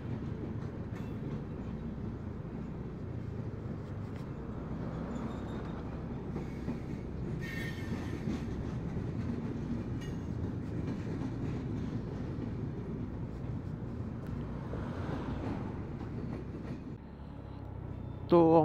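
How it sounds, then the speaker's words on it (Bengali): The Darjeeling Mail passes near the Farakka Barrage: a continuous loud rumble of wagons and wheels on rails, with clicking and occasional squeals, lasting throughout. "কোন ট্রেন এটা?"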